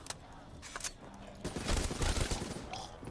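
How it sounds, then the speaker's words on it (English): Bursts of rapid gunfire from the video game Black Ops 3 Zombies on the Kino der Toten map, crackling shots and a dense volley building in the second half. "You see how I'm shooting them in the body?"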